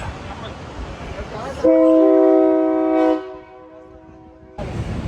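A train horn blares one long, steady, loud blast with a chord-like tone over rumbling noise near Cañon City, Colorado, then cuts off as the background returns.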